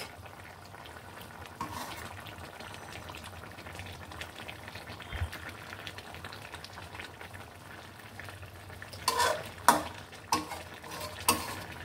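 Kalbaush fish pieces frying in oil with cumin, a low steady sizzle with soft stirring, then sharper utensil scrapes and clinks toward the end.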